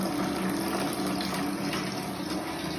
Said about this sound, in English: So of course the water will flow.